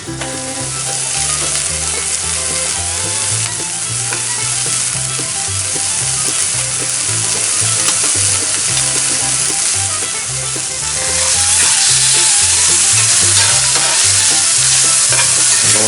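Wild shrimp spread out across a hot pan fry with a loud, steady sizzle and crackle. Intermittent stirring and scraping runs underneath, and the sizzle swells louder toward the end.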